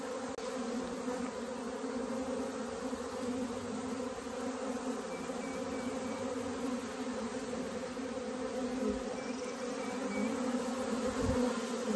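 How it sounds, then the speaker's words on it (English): A swarm of honeybees gathered on the ground hums with a dense, steady drone, loud and close throughout with no pauses. "there's quite a few bees on the ground"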